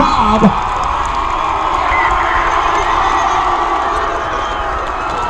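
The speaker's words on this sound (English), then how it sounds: "Our rowdy crowd is very loud tonight, just as they should be for every single game that they come to." The rowdy high school student section at a white-out night football game at Frederick High School cheers loudly and continuously, a dense wash of shouting and whooping voices filling the stands.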